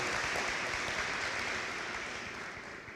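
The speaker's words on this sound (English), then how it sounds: "Let's give a round of applause for being here and online for Convocation." Audience applause at a college spring convocation, a steady wash of clapping from a large seated crowd that holds fairly even and tapers slightly toward the end.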